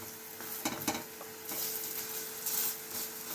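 Raw vegetable fritters of leaves with besan and rice flour sizzle in hot oil in a kadai, with sharp spatula clinks and stirring scrapes over a continuous frying hiss close by.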